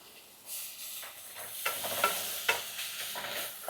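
A spoon scrapes and stirs beans and green peas through a hot pan for khichdi, with quiet sizzling and a series of soft scraping strokes that rise in bursts, heard close with no talk.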